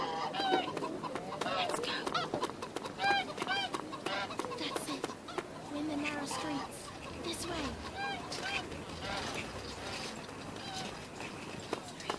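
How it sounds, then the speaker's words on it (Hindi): Repeated rooster-like crowing and clucking calls from the audio game A Blind Legend, layered over busy ambient noise and a talking voice throughout. "उस तरफ जाना है जहाँ पे चिकन की आवाज आ रही है"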